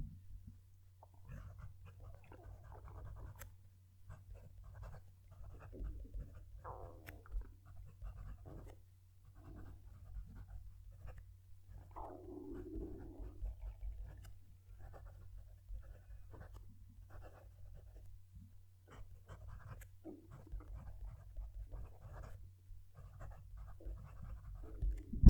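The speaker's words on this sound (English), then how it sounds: "Let's move the mic and write a sentence." Leonardo Momento Magico fountain pen scratching a sentence onto paper, soft close nib strokes in short bursts with pauses, faint against a low steady hum.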